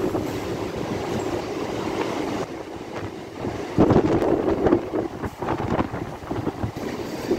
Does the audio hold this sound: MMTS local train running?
yes